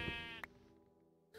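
A sheep in the Minecraft Aether II mod gives one clear, close bleat, brief and moderately loud.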